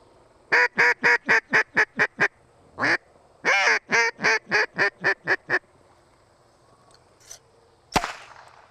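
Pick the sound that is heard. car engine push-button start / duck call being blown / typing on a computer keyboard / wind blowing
duck call being blown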